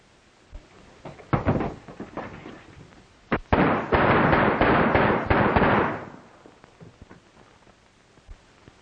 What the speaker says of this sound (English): let's riddle him with bullets.